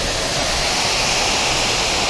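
Cachoeira da Bica waterfall in Campo Maior, Piauí, roars as a dense, steady rush of falling water, loud and close, with no voices over it.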